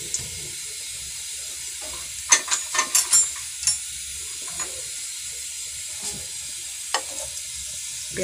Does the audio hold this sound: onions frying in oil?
yes